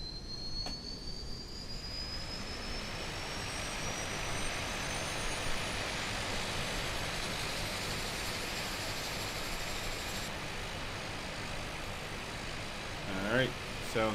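DHC-6 Twin Otter turboprop in a flight simulator video game spooling up during engine start, a steady broadband roar with rising high whine, loud and continuous, with a brief click near the end.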